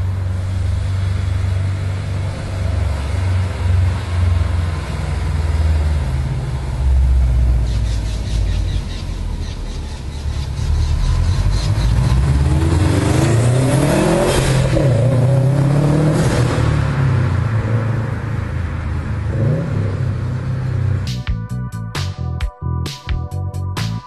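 A Ford Escort revs and accelerates while being driven, the engine note loud and continuous with rising sweeps through the middle, tire squeal and a few sharp clicks near the end.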